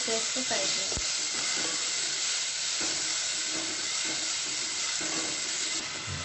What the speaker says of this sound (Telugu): టమాటో సాఫ్ట్ అయ్యే వరకు మిక్స్ చేస్తూ ఫ్రై చేయాలి